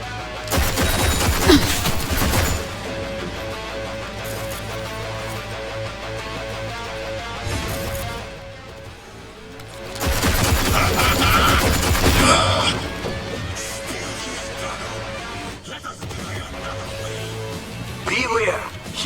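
Heavy gunfire and crashing impacts in the shooter Cyberpunk 2077, rapid bursts loud and close across most of the stretch, with a brief lull midway before the shooting surges again, game voices speaking over it.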